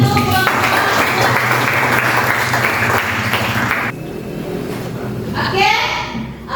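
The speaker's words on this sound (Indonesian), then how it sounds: "tepuk tangan untuk kelompok 2" A classroom of students applauds group 2 after their presentation, dense, steady clapping filling the first four seconds before it drops away and a voice and other talk take over.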